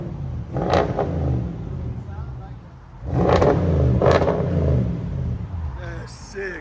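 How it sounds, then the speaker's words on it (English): A 2017 Audi S7 4.0L twin-turbo V8 with its muffler deleted revs loudly in two bursts with a deep, throaty roar, separated by a quieter idle, while people talk and exclaim around it. "Now you can actually hear the car"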